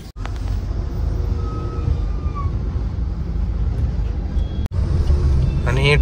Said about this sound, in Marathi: आणि हे ट्रॅफिक बघू शकता, ओल्ड गोवा रोडचं हे पूर्ण ट्रॅफिक आहे.